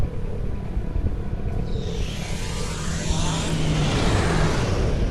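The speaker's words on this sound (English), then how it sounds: "I think I'm going to use slipstream right here." A starship's slipstream drive engages in Star Trek Online, a steady engine rumble swelling into a loud, rising rushing whoosh about a third of the way in, then holding as a dense roar to the end.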